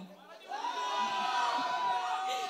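Tamil audience crowd at a film promotional event cheering and shouting together, a dense burst of voices rising after a brief lull and holding steady close by.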